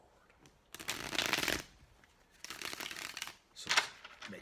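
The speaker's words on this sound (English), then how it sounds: "So make sure we get the cards nice and mixed up." A deck of tarot cards is shuffled by hand in three separate riffling bursts, close and crisp, with quiet pauses between and a brief spoken word.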